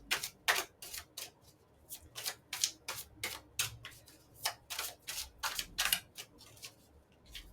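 Tarot cards shuffled by hand, a quick run of crisp riffling slaps and flicks in a steady, close rhythm, with no voices.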